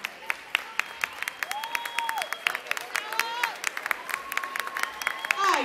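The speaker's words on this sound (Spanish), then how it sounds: "Las recibimos con un fuerte aplauso." An audience claps for a dance school's performance at a Caribbean-themed night, steady applause from a crowd under bright whistles and cheers, with a loud voice rising near the end.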